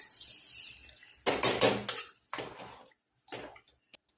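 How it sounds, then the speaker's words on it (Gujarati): Soaked rice grains rattle and clatter into a metal pot in a few bursts, with scraping knocks between them and a last short tap. "પાણી કાઢીને ચોખા આપણે અંદર એડ કરી દઈશું પલાળેલા।"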